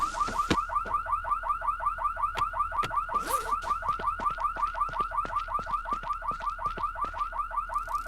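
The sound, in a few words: car alarm in video game No One Survived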